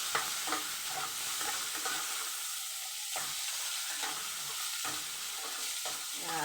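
Potato pieces fry in hot oil in a pan alongside bitter gourd and garlic, giving a steady loud sizzle with repeated scraping stirs throughout, no voices.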